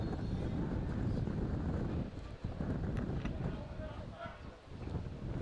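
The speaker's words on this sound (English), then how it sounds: "I should say a gusting high wind." Strong gusting wind buffeting the microphone at an outdoor Masters World Cup men's hockey match, England versus Australia, a loud rumbling roar that surges and dips in gusts, with a commentator's voice partly under it.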